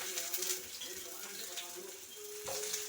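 Onions with green chillies and ginger fry in hot oil in a pan, giving a steady, moderately quiet hiss and crackle with a few faint stirring clinks.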